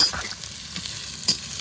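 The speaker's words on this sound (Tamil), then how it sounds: "கோகோனட் போட்ட பிறகு நல்லா வதக்கிக்கலாம்." Masala cassava with coconut stir-fried in a pan, giving a steady close sizzle with soft scraping stirs and a brief louder scrape near the end, no voices.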